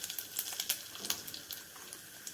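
Cumin seeds sizzle in melted ghee for dal tempering, a faint, close crackle of spitting and popping bursts scattered irregularly over a quiet hiss.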